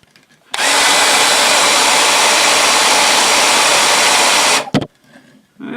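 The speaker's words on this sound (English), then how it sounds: "Just heat from a hairdryer." A hair dryer switches on and blows in a loud, steady roar for about four seconds, then cuts off with a brief click.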